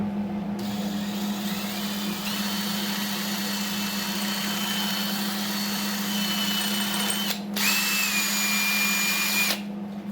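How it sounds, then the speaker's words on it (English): A power drill whines continuously at steady speed drilling a broken exhaust stud in an LS cylinder head, briefly stopping and restarting near the end, close and loud. "So what you do, you get a drill bit."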